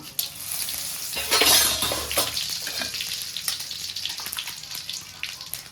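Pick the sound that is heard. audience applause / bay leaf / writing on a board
bay leaf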